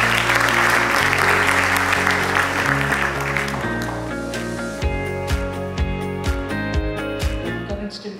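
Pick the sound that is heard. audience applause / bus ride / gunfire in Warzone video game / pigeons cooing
audience applause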